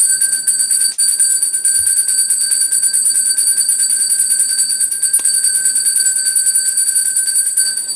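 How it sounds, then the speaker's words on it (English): A bell rings continuously in a rapid, shrill, metallic trill like an alarm clock, loud and steady throughout with no pause and no voices. "I'm gonna ring the bell, guys."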